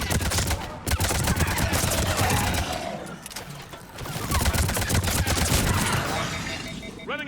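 Heavy, sustained gunfire fills a Mass Effect Andromeda battle, with rapid overlapping shots and loud bursts that barely let up, while voices are heard faintly beneath the shooting.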